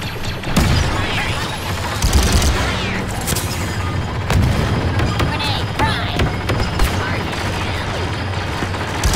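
A heavy trooper's gun in Star Wars Battlefront 2 fires in loud repeated bursts with booming impacts amid battle noise, while a voice talks over the action.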